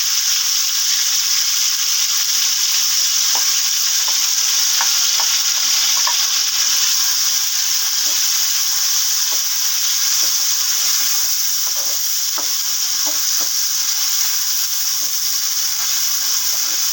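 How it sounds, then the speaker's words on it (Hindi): Chicken pieces fry in hot oil in a pan, giving a steady, loud, continuous sizzle with scattered crackles and pops throughout, no voices. "अब इसको ऑयल में डाल के 10 मिनट के लिए इसको पकाएंगे"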